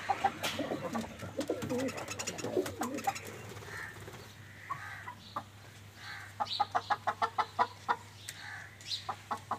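Soft cooing and clucking bird calls repeat near by, a quiet stretch of scattered coos before a quicker run of short, rhythmic calls toward the end.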